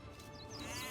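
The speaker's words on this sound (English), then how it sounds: "Then press A over a sheep to have them gather food." A single sheep bleat from Age of Empires 2 Definitive Edition on Xbox Series X, a brief wavering cry heard alone and clearly.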